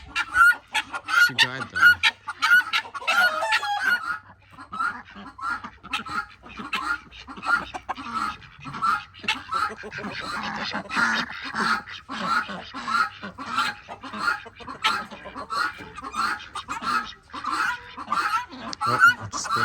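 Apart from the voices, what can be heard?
chickens clucking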